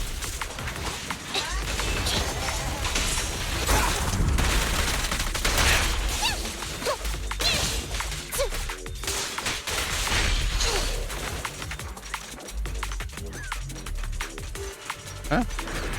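Rapid gunfire from Zenless Zone Zero, with dense, continuous bursts and impacts running throughout alongside other loud game effects, and a voice speaking over parts of it.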